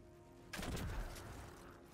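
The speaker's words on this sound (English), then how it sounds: "So just go ahead and start shooting them" A sudden burst of video game gunfire in Destiny 2 at a group of enemies, a quick cluster of sharp shots after half a second of quiet that then rings out into a decaying rumble.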